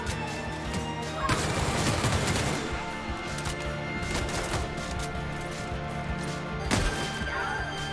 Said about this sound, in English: I shot him so hard, both his legs got bust off